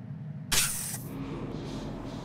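A spray fires in the VR Spooks: The Exorcist Legion game, one loud, sharp hissing burst lasting about half a second that fades into a quieter rushing hiss.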